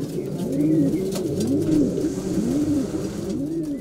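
Racing pigeons in a competition loft coo in a repeated, soft rhythmic pattern of about four rolling phrases, close by over a low background hum.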